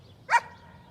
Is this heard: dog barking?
yes